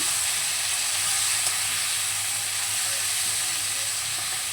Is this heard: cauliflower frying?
yes